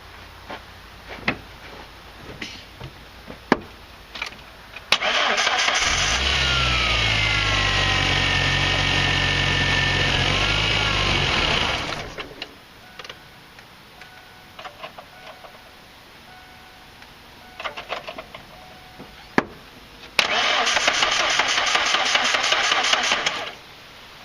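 A pickup truck engine cranks briefly off a GOOLOO 300 peak amp 12V ultra-slim jump starter, catches and roars at a loud steady idle for several seconds, then shuts off before a second cranking burst near the end; no talking.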